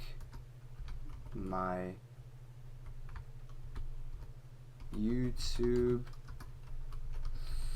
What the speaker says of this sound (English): let's just type in how I make